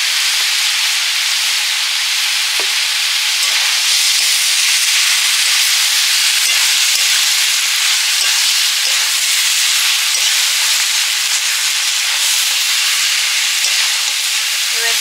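Vegetables sauté in a hot pan with a loud, steady sizzle and hiss that runs the whole time, broken now and then by faint stirring clicks.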